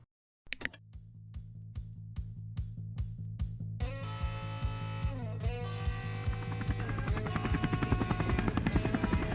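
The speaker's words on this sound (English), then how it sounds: "We start off in a helicopter," A helicopter in the video game Saints Row 4 gives a rhythmic rotor chop of evenly spaced pulses. A swelling musical score builds beneath it and gradually grows louder.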